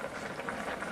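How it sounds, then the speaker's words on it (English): Rice boiling in a pot of water on high heat, giving a faint, steady bubbling simmer with small rhythmic pops. "Now the rice is boiling"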